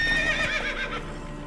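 A horse whinnies loudly in Witcher 3, a high neigh rising and falling close by, with hoofbeats faintly clopping underneath through the short burst.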